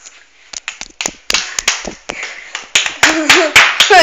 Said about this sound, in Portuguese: ninguém vai bater aplausos?